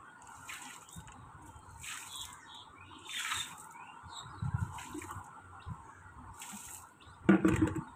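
Water is poured and splashed onto the ground at a home's main gate, with soft trickling and intermittent splashes, a louder burst near the end, and faint birdsong in the background.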